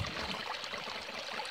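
Cold spring water pouring steadily down from a height outdoors, a continuous close splashing trickle with broadband hiss and no pauses.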